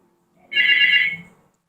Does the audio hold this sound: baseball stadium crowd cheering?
no